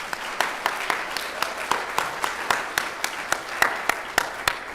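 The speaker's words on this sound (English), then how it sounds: "So I'd like to give them a round of applause." Audience applause at a teaching excellence awards ceremony, a steady wash of many hands clapping with a few sharp individual claps standing out, fairly close and continuous throughout with no voices over it.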